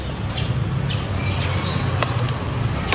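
A bird's wings flap in a quick burst nearby, with a few soft squawks and rustles in a quiet room.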